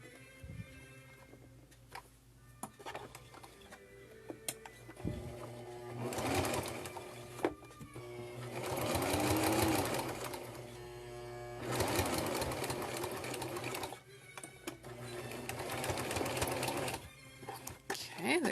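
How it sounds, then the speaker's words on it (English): A sewing machine stitches down the corners of a soup bowl hot pad in several short and longer bursts of rapid, close mechanical whirring, with quiet pauses between them. "So I'm going to take this over here and sew down these corners."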